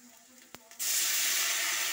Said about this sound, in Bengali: তেঁতুল ভিজানোর জলটা এবার এর মধ্যে দিয়ে দিতে হবে।